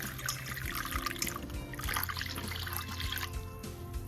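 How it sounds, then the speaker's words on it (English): Warm water pours from a cup onto yeast in a kitchen, a continuous soft trickling and splashing over a few seconds with no talking. "you have the yeast, and then you want to add a cup of warm water"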